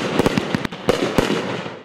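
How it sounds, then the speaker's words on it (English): Fireworks burst over a waterfront amphitheater on the Fourth of July after an orchestra concert. About half a dozen sharp, loud bangs come in an uneven rapid series, and their reverberant echoes ring out between them. "The fireworks was really great."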